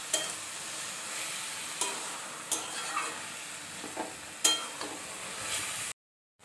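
Boiled taro leaves stirred in a pan with turmeric, cumin and coriander powder, giving a steady soft sizzle broken by several sharp scraping stir strokes, close and continuous, with no voices.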